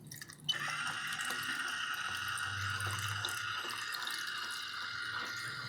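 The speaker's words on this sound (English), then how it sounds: "Just want to start getting some water in there quickly. Again, pour it slowly." Water runs from a tap into a film developing tank during home processing of 35mm film, a steady splashing, trickling flow that starts abruptly after a brief knock and continues close and unbroken.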